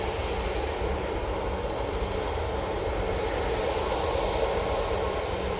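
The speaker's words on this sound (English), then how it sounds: "We'll be going with this Easyjet." An easyJet Airbus A320ceo jet airliner at Manchester Airport gives a steady, loud broadband engine roar that holds even throughout, with no voices.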